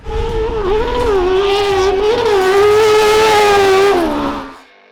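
An SR1 race car with a very small muffler and an 07-08 motor that revs to 13,800 RPM screams loudly and close by, holding a steady high-pitched engine note that wavers slightly before cutting off.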